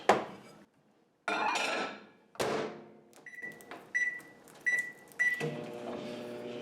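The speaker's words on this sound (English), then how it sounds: "So we're going to put this in the microwave for 2 minutes." A microwave oven starts up to heat butter, with door and button clatter, several short beeps, and a steady humming run that continues after, fairly close and without talk.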